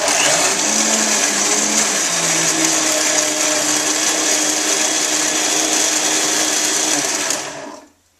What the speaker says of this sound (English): I'm going to take and just blend this up.